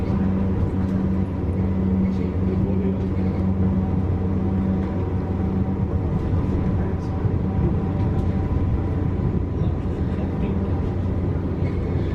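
Battery-powered Vivarail train slowing into Bletchley station, heard from on board as a continuous low rumble and drone with a faint steady tone, running at an even loudness with no voices.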